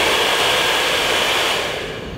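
A hair dryer runs on its highest heat setting, a steady loud broadband whoosh held close and continuous, easing slightly quieter toward the end.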